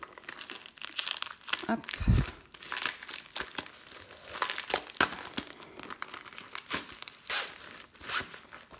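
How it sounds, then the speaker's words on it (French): A small plastic sachet holding cross-stitch and diamond painting supplies is torn and crinkled open, with a burst of close, busy rustling and crackling. A voice speaks briefly over it. "ça arrive dans un petit sachet comme ça, qui sont pas toujours très pratiques à ouvrir, mais on va se débrouiller."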